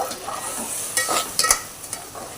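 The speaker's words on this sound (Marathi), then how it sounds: "तांदूळ घालून पण थोडं परतवायचं आहे" Washed rice is sautéed with spices in a pan for pulao, a soft sizzle broken by a few sharp scraping stirs, close and alone.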